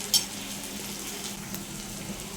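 Spice masala with salt and chilli powder frying in a pan for a Bengali pabda fish curry, giving a steady soft sizzle at close range with faint stirring scrapes and one brief clink near the start.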